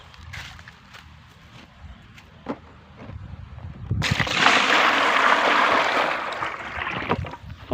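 Water is poured out outdoors in a sudden rushing splash that begins midway, stays loud and close for a few seconds, then trails off, following quieter rustling and handling noises.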